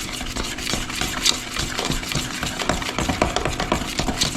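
Milk paint powder being stirred into water for refinishing a china hutch, a steady close scraping and swishing of a stirrer in a container, continuous with scattered clicks and no talking.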